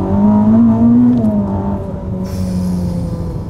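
A 1000 HP Ferrari accelerates along a short straightaway, its engine a loud, steady drone heard from inside the car, the pitch rising slightly and then settling with continuous road and wind noise.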